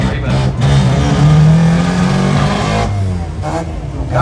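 A street compact car's engine revs hard and climbs as it launches into a wheel stand at a drag racing event, loud and close, with a sustained rising tone, crowd noise and a commentator's voice underneath.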